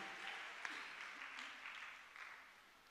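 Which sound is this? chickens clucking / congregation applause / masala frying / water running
congregation applause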